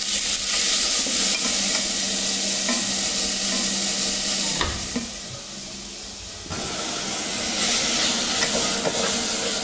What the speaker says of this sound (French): nous remarquons que l'oignon caramélise légèrement